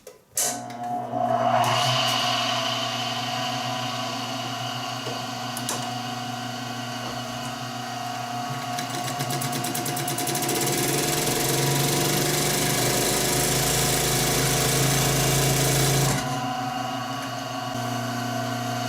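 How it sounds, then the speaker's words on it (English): An industrial sewing machine fitted with a DPX5 size 12 needle and domestic thread runs steadily for about fifteen seconds, a loud continuous motor whir and rapid stitching drone that swells slightly midway before stopping. "let's do a stitch with this DPX5 needle, size 12"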